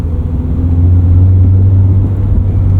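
A lifted 2022 Subaru BRZ, a lightweight rear-wheel-drive sports car, driving on snow with Falken Wildpeak tires, giving a steady loud low engine drone and road rumble from inside the cabin, with a slight rise in engine pitch partway through.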